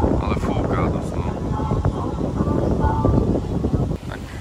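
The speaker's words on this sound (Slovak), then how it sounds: "dosť fúka veter" Strong wind buffets the microphone on a beach in Nha Trang, Vietnam, a steady loud rumbling roar that runs through the whole stretch without letup.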